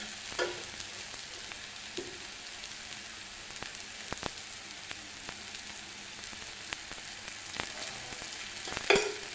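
Oil heating in a pan for dried-fish sukat, a soft steady sizzle with sporadic sharp crackles and a few spatula taps, fairly quiet and close.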